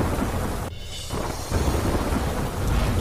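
A thunder and rain sound effect for a weather bulletin: dense, steady rain hiss with a rumble of thunder, broken by a brief dip near the start, loud and continuous with no voices.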